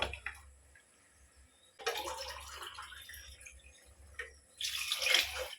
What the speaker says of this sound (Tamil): நாலு கிளாஸ் தண்ணி ஊற்றணும்